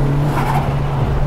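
A light Nissan Silvia running stock boost with a pod filter gives a short, loud, close burst of engine drone with a squealing tire edge, over in about a second.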